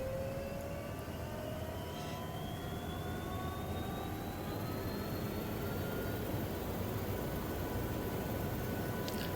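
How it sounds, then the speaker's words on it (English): The second engine of an MD902E helicopter spooling up in X-Plane 12, a steady turbine whine rising gradually in pitch over a constant broadband roar. "Second engine starting."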